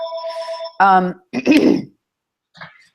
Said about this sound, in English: Oops, somebody's trying to call me, but we'll let them talk to me later.